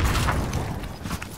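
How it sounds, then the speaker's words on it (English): A grenade goes off in the Call of Duty Warzone video game, a muffled boom at the start that rumbles and fades into scattered mechanical rattles and debris noise. "Throwing grenade."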